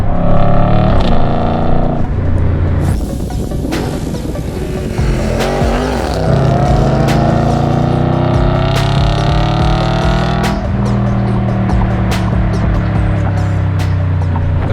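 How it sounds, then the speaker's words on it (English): An MY13 Audi RS5 with the 4.2 FSI V8 and quattro drive accelerates hard, revs climbing and dropping as it shifts up through the gears, then downshifts; loud, close and continuous. "We're going up through the gears, up into fourth, final drop down into second."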